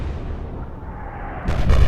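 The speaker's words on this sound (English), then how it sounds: "Did you see that explosion?" A naval artillery shell from a warship in Atlantic Fleet explodes in a sudden, loud, deep boom after a low rumble.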